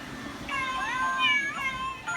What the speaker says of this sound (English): It's a kitty singing birthday song card.